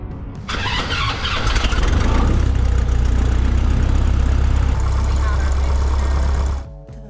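A Cessna 140A piston aircraft engine cranks and catches after about half a second, then settles into a loud, steady, rumbling idle close by before cutting back sharply near the end.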